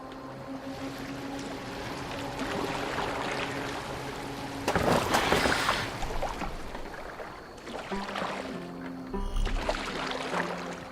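Oars churn water as a boat is rowed in the video game Assassin's Creed Valhalla, a steady wash of splashing and waves with a louder surge of strokes midway.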